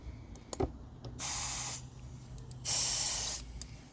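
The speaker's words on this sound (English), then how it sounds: "Okay, so we got the air hose attachment. I'm going to hold this with my finger and air it up slowly." Compressed air from an air hose hisses into a leaky MTD snowblower tire in two steady bursts, each lasting about half a second, with quiet pauses around them.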